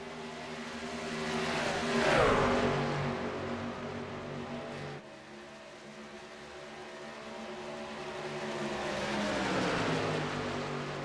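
A pack of racing supertrucks roars past in a racing video game, engines droning and rising as one sweeps by around two seconds, a brief dip, then the pack's pitch climbs again near the end.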